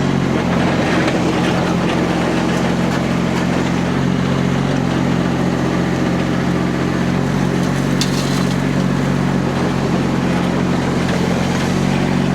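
A Rippa diesel mini skid steer runs at low RPM, pushing its lowered bucket into a full scoop, giving a steady, loud, droning engine rumble with a constant low hum and no pauses.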